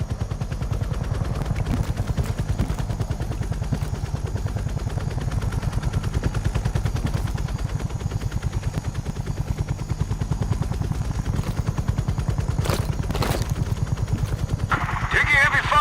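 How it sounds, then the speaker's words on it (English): Heavy gunfire in Call of Duty: Black Ops Cold War, a relentless rapid stream of shots over a deep rhythmic throbbing, with sharper bursts and explosions cutting in toward the end. "Taking heavy fire"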